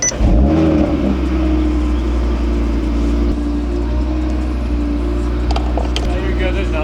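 An Audi TT RS fitted with new EV14 E85 injectors and race plugs cranks, catches, and briefly revs up close before settling into a loud, steady idle that hums on to the end.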